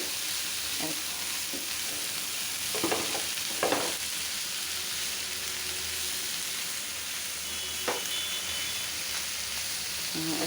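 Leafy greens (shak) frying in a pan, a steady broadband sizzle throughout with a few sharper scraping stirs, close and continuous with no talk.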